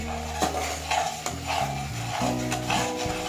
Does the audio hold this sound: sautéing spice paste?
yes